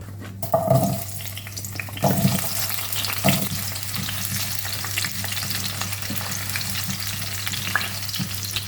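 Tomato and onion frying in a blend of sesame and other oils, a steady close sizzle with a few stirring scrapes early on and no talk.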